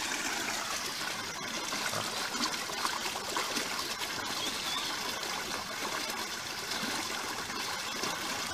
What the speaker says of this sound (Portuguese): é um barulhinho tão gostoso do barulho d'água